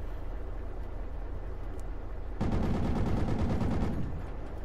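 Machine-gun fire in the military shooter Project Reality, a sustained rapid burst of close shots lasting about a second and a half over a constant background hiss.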